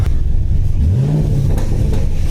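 A cammed fifth-generation Camaro Z28 engine revs up, its pitch rising and then holding steady over a constant low rumble of idling motor, close by.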